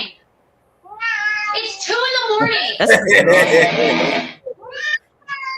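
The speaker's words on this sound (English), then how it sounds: "look at this cat" A cat meows repeatedly in a video played back on a stream, with drawn-out, rising and falling cries, loud and close, under and between spoken voices.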